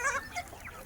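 Free-range village hens, vaccinated gavran chickens, clucking in a brief, close burst of overlapping calls, with no talk.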